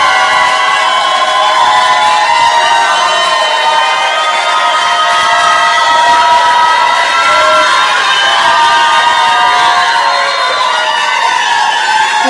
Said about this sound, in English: this is the time you all are all allowed to break the rule and show your appreciation with applause